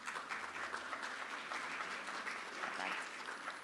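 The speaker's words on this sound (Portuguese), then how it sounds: "Un aplauso también para él." Applause from the audience at a Brazil–Chile energy and strategic minerals forum, a soft, even patter of many hands clapping at a distance, steady for a few seconds with a faint voice mixed underneath.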